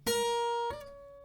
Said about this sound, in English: then from the 2nd E to the 5th E,